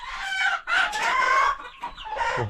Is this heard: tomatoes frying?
no